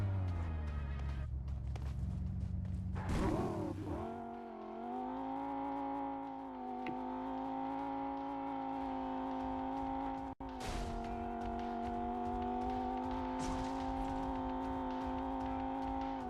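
A buggy driven in the mobile battle royale game PUBG Mobile, its engine a steady loud drone with harmonic whine, a brief skid or tire squeal near the start and a short cut midway, running alone without talk.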